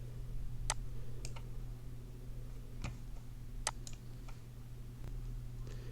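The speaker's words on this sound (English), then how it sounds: "Click on Save." Mouse clicks in Outlook on a computer, a few sharp, crisp ticks spaced irregularly over a steady low hum, close and fairly quiet, with no talking.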